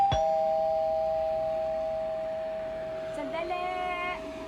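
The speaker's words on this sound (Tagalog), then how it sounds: "Ito doorbell ko." A house doorbell rings with a sustained chiming tone that slowly decays, then a second, shorter electronic chime pattern sounds near the end, clear and close with a quiet background.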